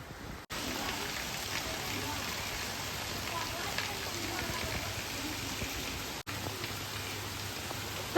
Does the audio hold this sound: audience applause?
no